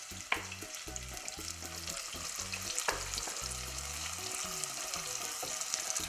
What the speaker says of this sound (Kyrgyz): артынан этти салабыз.